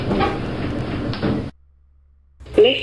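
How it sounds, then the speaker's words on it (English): Elevator doors sliding shut with a broadband mechanical rumble for about a second and a half, then near silence, followed by a brief chime-like tone and clatter as the lift moves on. "Doors closing."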